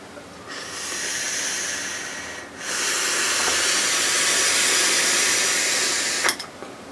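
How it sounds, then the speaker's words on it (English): Long breathy exhale from vaping through a SteamCrave RDA e-cigarette, a steady close hiss lasting several seconds with a brief break midway, ending in a short click. "I need to do a vape here."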